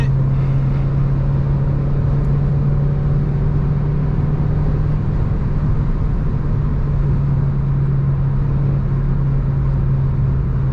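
A 2011 Renault Clio 3 RS with a 2.0 L, 203 hp engine, heard from inside as a continuous loud, droning engine tone holds steady with little change in pitch, and no voices are heard.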